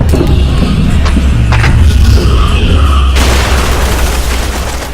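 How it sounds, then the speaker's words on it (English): Cannon fire and explosions as warships blast each other apart in an animated sci-fi series, a loud continuous rumble of booms with scattered sharp pops, turning to a dense crackling roar near the end. "The Instigator then has the ships point their cannons at each other and blow each other apart"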